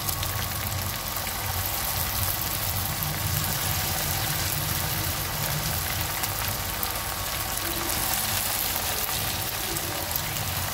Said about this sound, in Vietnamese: lần thứ hai là mình sẽ chiên cho nó vàng luôn